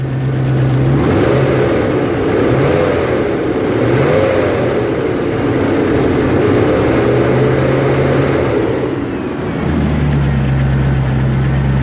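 A 1994 Range Rover engine idles from a cold start, then revs up and holds at higher revs for several seconds before dropping back to a steady idle, close and loud.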